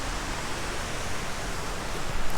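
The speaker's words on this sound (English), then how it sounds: "There's a nice looking waterfall." Steady broadband rush of a waterfall at Tallulah Gorge in Georgia, a constant even roar heard from an overlook with no voices over it.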